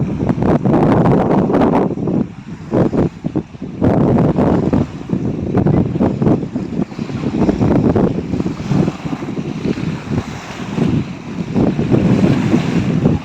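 Kaptai Lake water splashes and laps under strong wind at a lakeside camp in Rangamati, a loud continuous rush of gusts and wave wash with heavy wind buffeting on the microphone, no voices.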